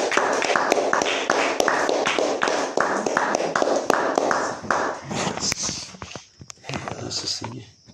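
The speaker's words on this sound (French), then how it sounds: "Applaudissons pour le Seigneur Jésus." Church congregation clapping together in a steady rhythm during worship, loud and close, with brief voices rising near the end as the applause fades.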